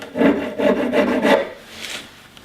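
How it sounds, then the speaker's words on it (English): A small, fine half-round file rasps across a silver butt plate for a flintlock Hawken rifle, about four steady back-and-forth strokes close up, then the scraping stops and it goes quiet. "This is a small, fine half round file."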